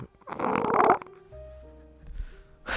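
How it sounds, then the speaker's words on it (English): A fart blown into a close microphone, a single loud, low, buzzing burst of about a second followed by a quieter, drawn-out tonal squeak and a short final puff. "just farted into the mic"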